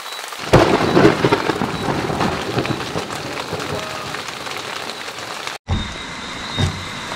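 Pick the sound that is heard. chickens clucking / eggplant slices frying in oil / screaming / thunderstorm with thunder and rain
thunderstorm with thunder and rain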